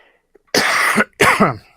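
Two sharp, close coughs in quick succession over a livestream microphone, loud and dry, separated by a brief pause, with near silence before and after.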